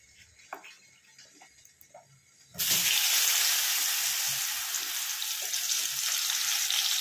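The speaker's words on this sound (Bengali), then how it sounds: "পুরো আমার তেল কিন্তু গরম হয়ে গেছে, এবার আমি ছেড়ে দিচ্ছি এক এক করে পটল।" Pieces of pointed gourd drop into hot oil in a home kitchen and set off a sudden, loud, continuous sizzle that follows a few quiet seconds of small handling sounds.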